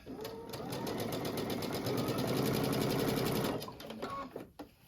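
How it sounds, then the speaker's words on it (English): A sewing machine stitches pieces of a crushed ruffle project together, a steady rapid needle chatter running for about three and a half seconds before it slows and stops. "And sew these together."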